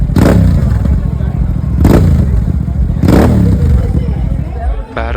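A motorcycle with a barrel exhaust at a World Motorcycle Day stunt show in Bangalore revs loudly in three sharp bursts over a continuous engine roar, amid crowd chatter.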